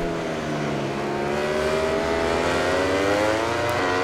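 A loud, high-revving Ducati GP20 motorcycle engine in the racing video game MotoGP 20 drones steadily, pitch slowly rising and falling as it accelerates, with no talking.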